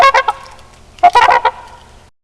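A swan gives loud, nasal honking calls, two clustered bursts of several honks each, close and alone.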